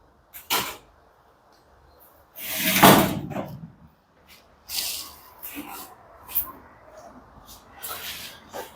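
Parts of a Whirlpool dryer door being fitted during a repair, with a few separate clunks and sliding scrapes, one louder rustling handling burst near the start, and quiet pauses between.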